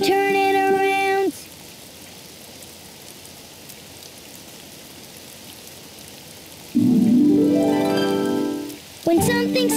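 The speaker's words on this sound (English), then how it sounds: "Oh, it's raining outside." Rain falling outside, a steady soft hiss of drops running through the middle of the clip between louder tonal passages at the start and end, moderately loud and continuous.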